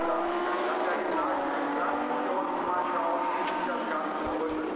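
Lamborghini Super Trofeo race cars roar past on the Nürburgring circuit, a continuous loud engine drone with a brief high whine near the end. A commentator talks over the noise throughout.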